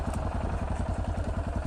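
A motorcycle engine rides over a rough dirt track, its steady, close, throbbing pulse rolling on without pause amid rattling clatter from the bumpy ground.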